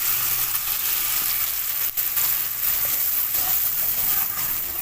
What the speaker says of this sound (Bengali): এবার দুধটা দিয়ে দিচ্ছি।